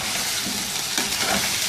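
Yogurt and garlic-ginger paste stirred into a sizzling karahi, a steady close frying hiss with soft scraping stir strokes throughout, no voices.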